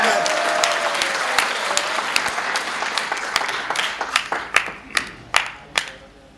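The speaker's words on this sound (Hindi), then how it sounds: "जोरदार तालियां एक बार।" Loud applause from an audience at a Hindi desi comedy poetry show, a dense wash of clapping that swells into sharper, distinct claps toward the end before fading.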